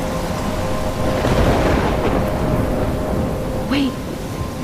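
A thunderstorm in the Life is Strange video game: a heavy, continuous roar of rain and rolling thunder fills the scene, with a brief sharper crack near the end.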